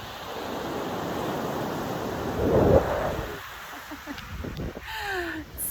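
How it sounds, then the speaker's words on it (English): Broad, steady ocean surf washes in continuously, swelling to a louder crash near the middle before easing into a softer, rolling wash. "One more look at the ocean for you guys."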